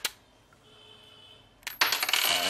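A coin is dragged across the scratch-resistant screen of a Micromax YU Yureka phone: a brief click, a quiet stretch, then a loud gritty scraping burst near the end.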